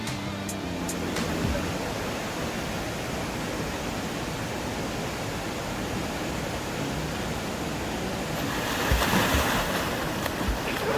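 Steady broadband rush of water at the base of Mohini waterfall near Kulekhani dam, continuous and fairly loud, with a slightly stronger surge near the end and no talking.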